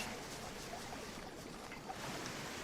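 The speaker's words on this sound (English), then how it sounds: "We're getting close to the waterfall there, that's why it's noisy." Rushing waterfall in the jungle survival video game Green Hell: a steady, broadband roar of falling water, continuous and fairly faint, with no talk over it.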